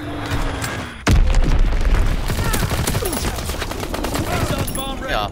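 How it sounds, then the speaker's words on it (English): An Azon bomb exploding in a WW2 video game, a sudden heavy boom about a second in followed by sustained rumbling and rattling gunfire, loud and dense, with a voice heard briefly over the battle. "Dropping Azon bomb."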